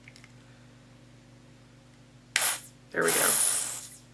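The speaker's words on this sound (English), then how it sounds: "I'm just gonna spray it on." Magic Minerals airbrush primer sprayed onto a makeup brush in two close, loud hissing bursts, the second longer, with someone speaking briefly.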